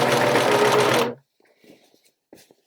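A sewing machine stitches the waistband of a pair of jeans in a loud, rapid, continuous run of about a second, then stops abruptly, leaving only faint handling rustles and clicks.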